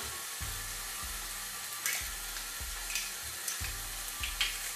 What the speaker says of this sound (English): we're going to saute this for about 15 minutes